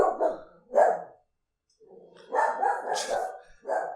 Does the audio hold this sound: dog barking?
yes